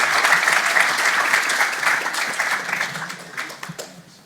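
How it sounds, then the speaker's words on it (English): A round of applause from the audience at the Somali Week Festival launch, dense steady clapping that is loud at first and then thins out and fades over its last second. "If we can give Michael another round of applause, please."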